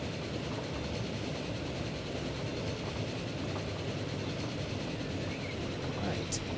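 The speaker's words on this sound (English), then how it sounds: "there will be more than just this one train running on this track" Train running on a track in the rail simulation game Transport Fever, a steady, dense rolling rumble with a continuous wash of wheel noise that holds even throughout, a few faint clicks near the end.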